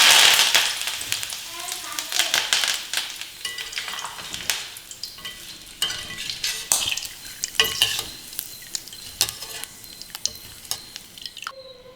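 Curry leaves crackling and sizzling in hot oil while making chakli, with scattered clinks and scraping of a stirring utensil against the pan, heard close.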